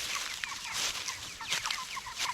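A flock of pastured farm chickens clucks and chirps in a continuous busy chorus, fairly near, with overlapping calls and no talk.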